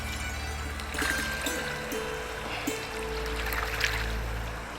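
River water flowing steadily in Manas National Park, swollen with early monsoon rain: a continuous broadband rush and gurgle, moderately close, with no voices over it.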